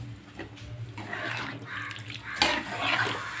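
Water is poured into a pan of jackfruit curry as it cooks, giving a soft, uneven splashing and trickle over a low background hum, with no voices.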